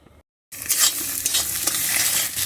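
A short pause gives way to loud, continuous sizzling as egg seasoned with salt and turmeric fries in a pan, stirred and scrambled with repeated scraping strokes.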